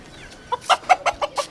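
A rooster gives a short run of about six quick clucks, close and clear over a quiet background with no talk.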